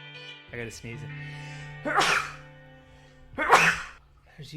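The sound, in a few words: sneeze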